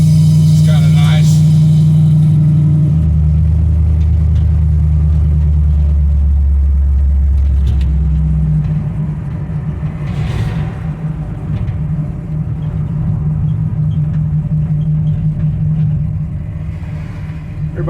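An old 1955 truck engine rumbles low and heavy while driving, louder and fuller for the first several seconds, then settling into a steadier drone; someone talks intermittently over the engine.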